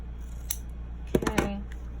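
Scissors snip a few times, close and crisp, cutting around a snap wallet, with two or three quick blade closes in a row.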